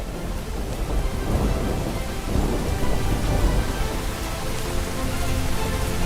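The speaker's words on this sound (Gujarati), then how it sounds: "વિસ્તારોમાં વરસાદ પડી રહ્યો છે" Rain falls steadily in Sabarkantha district, Gujarat, with deep thunder rolling through it, a loud, continuous downpour and low rumbles and no voices.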